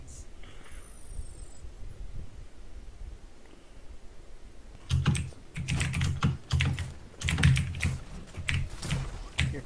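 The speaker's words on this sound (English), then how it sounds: "Keyboard, man. I gotta turn you down." A computer keyboard being typed on nearby during an Overwatch game session, quiet at first and then bursting into loud, rapid clusters of keystrokes for the last half.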